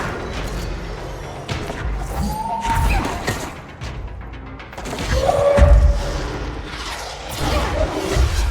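Several booming grenade blasts and crashes in the action game Control, loud and spread across the clip with thuds and debris over a dense game-combat backdrop, no talking.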